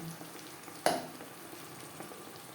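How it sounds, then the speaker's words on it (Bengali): Onion, tomato, ginger, green chilli and garlic hit hot oil left from frying hilsa fish for doi ilish, giving one sharp sizzling burst over a soft, steady frying hiss. "মাছ ভেজে নেওয়া তেলে দিয়ে দেব পেঁয়াজ টমেটো আদা কাঁচা লঙ্কা ও সাত আটকো আর রসুন"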